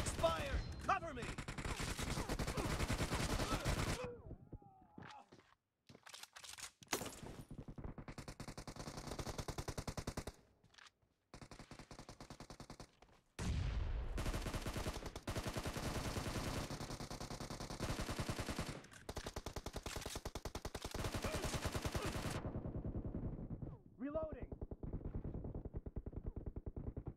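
Rapid automatic gunfire and bursts of shots from the mobile battle royale game PUBG Mobile, loud and dense with brief pauses, mixed with game announcer voice lines and other in-game sounds.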